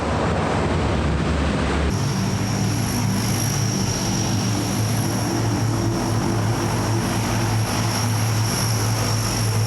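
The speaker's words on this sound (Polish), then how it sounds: "to wyglądało na jakiś stary wojskowy samolot, chyba jakiś Antonow albo coś takiego" An old military propeller airplane drones loudly and steadily overhead, its engine hum constant throughout with no talking.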